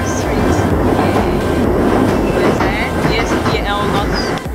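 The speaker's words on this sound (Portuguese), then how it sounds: "Então a gente tá no metrô indo pra Oxford Street." Riding a London Underground train toward Oxford Street: steady loud rumbling and clickety-clack of the carriage with squealing metallic tones, and voices faintly under the noise.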